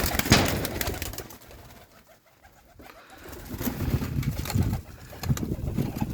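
Pigeons coo softly in repeated low murmurs amid a busy outdoor background, with occasional rustling and a quieter lull midway.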